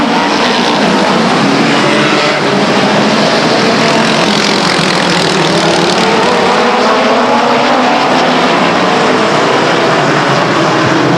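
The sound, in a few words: BCRA midget race cars roaring off at the green flag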